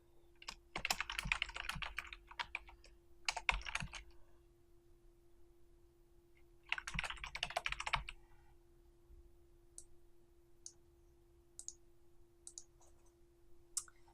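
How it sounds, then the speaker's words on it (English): Quick bursts of typing on a computer keyboard, close and quiet, in two main flurries of rapid clicks followed by scattered single key taps over a low steady hum. "And I type in my application"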